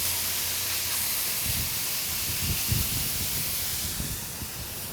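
Chorizo sizzles in vegetable oil on a hot griddle, a steady close hiss with crackling pops and no voices.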